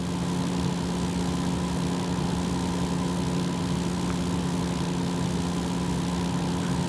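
Simulated Cessna propeller engine in X-Plane 11 droning at a steady pitch, a loud constant buzzing hum with no pauses and no talk over it.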